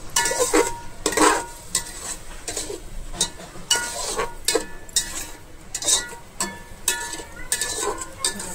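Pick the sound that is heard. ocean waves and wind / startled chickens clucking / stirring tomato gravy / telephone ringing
stirring tomato gravy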